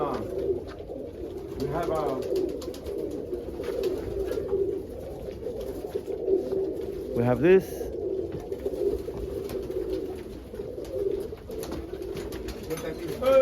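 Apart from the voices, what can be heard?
birds calling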